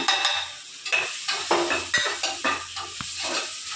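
Ingredients are tipped into a frying pan for a dondakaya curry and stirred, giving a steady hiss of sizzling oil broken by repeated scraping strokes and light clinks of the pan, close and fairly loud.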